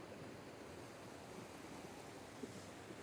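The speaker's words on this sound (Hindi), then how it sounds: "नदी की इस कलकलाहट के बीच" The Manalsu river in Old Manali rushes and gurgles steadily throughout, a dense, continuous broadband wash of flowing water with no voices.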